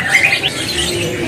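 A male Mozambique bird sings in short, bright chirping phrases over a steady, noisy background hum at a bird market.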